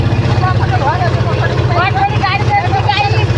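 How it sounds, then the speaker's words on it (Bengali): A bhotbhoti, a small engine-driven local vehicle near Godkhali ghat in the Sundarbans region, running with a steady low engine drone close by, under continuous talk and crowd chatter. "এই যে ভটভটি গাড়ি"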